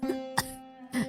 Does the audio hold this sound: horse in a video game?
no